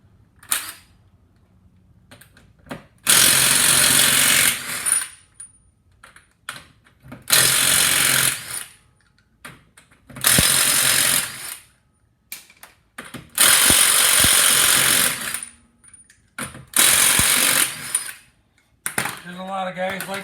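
A Ryobi power tool spinning off the wheel nuts on a 2006 Toyota, five or six loud buzzing bursts of a few seconds each with quiet pauses between, close by.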